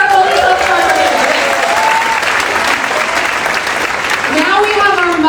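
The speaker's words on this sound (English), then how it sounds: "Big round of applause for our Golden Sunflower winner." Loud, sustained applause from an audience at a community harvest benefit auction, steady clapping filling the whole stretch with a cheer rising near the end while people call out over it.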